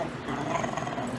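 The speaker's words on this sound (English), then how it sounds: "Appreciate that bark." A dog gives a short, soft bark, a single brief low-key woof heard close by in a quiet indoor room, with no speech over it.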